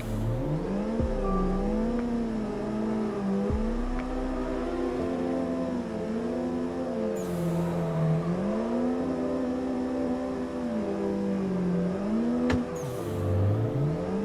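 A turbocharged car engine in the Assetto Corsa driving game, drifting and shifting between second and third gear; a continuous droning engine note rises and falls in pitch with brief shift dips and whooshes.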